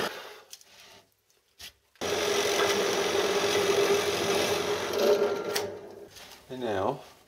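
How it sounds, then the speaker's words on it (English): Power drill boring larger holes through wood for a table saw miter fence, guided by pilot holes: a sustained gritty whirring cut of about four seconds after brief handling noises, ending with a short rising-falling whine as the bit slows. "Now to drill the larger holes."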